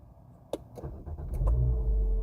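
A Renault Captur Life 1.6 automatic starts by push button: a few sharp clicks and a brief starter whir, then the engine catches and settles into a steady low idle, close by.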